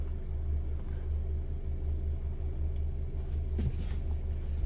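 A steady low engine rumble of an idling car, continuous and close, with no speech.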